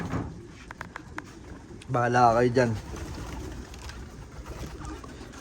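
Racing pigeons cooing at an open loft during a Capistrano Classic open loft race, a short low burst of calls rising clearly above steady outdoor background, with people talking nearby.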